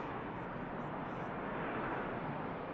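A Turkish airliner rolls down the runway for takeoff at Manchester Airport, its engines a distant, faint broadband roar holding steady throughout.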